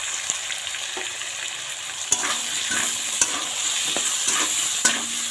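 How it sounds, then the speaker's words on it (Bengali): Potatoes fry with salt and turmeric in a pan, a steady bright sizzle broken by several sharp clicks and scrapes of a spatula stirring, with no talking. "এবার ভালো করে আলুটা ভেজে নেব।"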